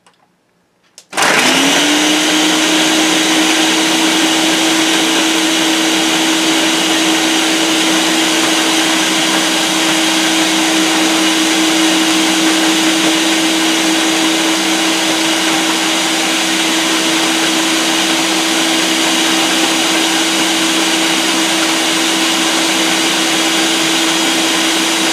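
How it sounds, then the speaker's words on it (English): A Ninja blender on boost setting crushes ice for a carrot, ginger and turmeric smoothie, a loud, steady motor whine that kicks in abruptly and holds continuously throughout, with no talking. "I'm going to hit boost on the Ninja so that you can see that. It's loud."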